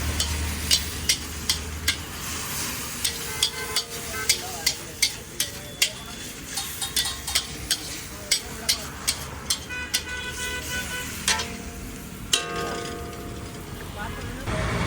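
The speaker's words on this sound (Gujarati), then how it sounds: "જોઈ શકો છો ચટણી પણ આપણે શેકાઈ જાય છે" Gujarati chutney roasts in a pan for mag pulav with a steady close sizzle, while a spoon scrapes it in regular rhythmic strokes throughout and someone talks over the cooking.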